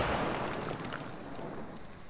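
A distant, muffled explosion in a video game, a tree blown up, rumbles out as a soft, broad burst of noise that slowly fades, fairly quiet throughout.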